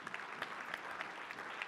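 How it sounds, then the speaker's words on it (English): A church congregation claps in a steady, sustained round of applause, heard faintly and evenly throughout. "let's just give them another hand"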